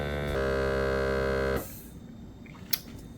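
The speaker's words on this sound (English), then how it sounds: "It vacuum seals so long and then stops." Handheld vacuum sealer motor humming steadily and close for about a second and a half, then cutting off abruptly, leaving quiet room noise with a small click afterward.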